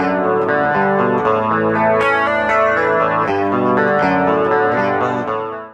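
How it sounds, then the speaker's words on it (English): Rockman X100 pedal clean guitar tone, chorused and echoing, with ringing sustained chords and picked notes, lush and full, playing alone before fading at the end. "first we'll listen to the pedal, the X100 pedal clean sound part"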